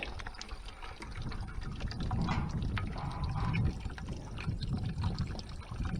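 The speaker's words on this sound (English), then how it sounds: "Let this water drain out here." Water drains and trickles out of a compost tumbler, a steady close-up splashing and pouring flow that keeps going alone throughout.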